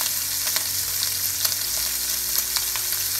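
Sea bass and shrimp frying in a pan, a loud, dense, continuous sizzle with faint ticks of the food being moved and flipped, no talk.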